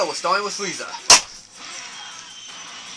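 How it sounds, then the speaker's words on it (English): A piece of a gaming chair snaps off with a single sharp crack, loud and close. Someone is talking just before it, and a faint background hiss follows. "A piece of my freaking chair just came off."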